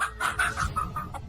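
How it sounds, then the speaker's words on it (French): Roosters cluck and crow in a rapid, close, loud series of calls at an indoor ceremony, with no talk over them. "Qui a mis les coqs ici?"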